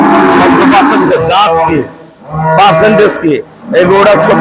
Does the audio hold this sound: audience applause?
no